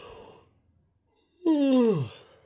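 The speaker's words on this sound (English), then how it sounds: "As soon as I start doing this video, here comes the yawn." A man gives a single drawn-out yawn that starts abruptly and falls in pitch as it fades. It follows a short stretch of quiet and some faint breathy sound, all close to the microphone.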